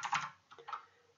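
Keys clatter on a computer keyboard as code is typed, a quick burst of close clicks followed by a short pause and a few scattered keystrokes.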